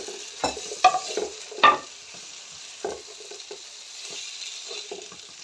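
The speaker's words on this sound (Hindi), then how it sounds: "1 अदद शिमला मिर्च, 1 अदद छोटा टमाटर, 1 अदद प्याज, ये सब ऐड कर देना है और इसको अच्छे तरीके से फ्राई कर लेना है" Chicken fries with capsicum, small tomato and onion for a masala boti, with a soft, steady sizzle and a few close stirring scrapes and clatters near the start.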